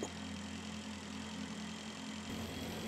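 A motorbike engine in the space-survival game Breathedge runs with a steady, fairly quiet idling drone and a slight shift in tone near the end, with no one talking.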